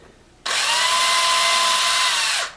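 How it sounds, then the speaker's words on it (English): A power drill bores pilot holes into cherry hardwood for cabinet hinges, a single sustained high whine starting abruptly, holding steady for about two seconds, then winding down, close and loud with no talking. "I'm drilling these pilot holes right in the middle of where these hinges go."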